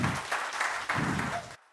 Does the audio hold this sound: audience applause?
yes